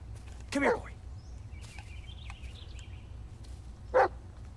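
A dog in the video game Blair Witch gives two separate short barks, one early and one near the end, with faint game ambience between them.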